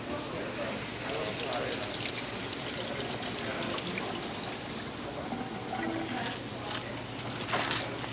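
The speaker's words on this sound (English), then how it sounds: "Wash my hands quick." Water runs steadily from a kitchen tap while hands are washed, a continuous splashing hiss under people talking nearby.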